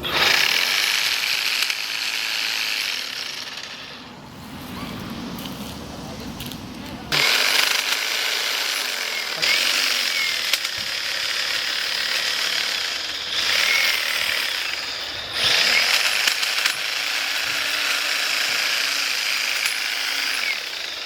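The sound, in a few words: EGO Power+ hedge trimmer cutting tree branches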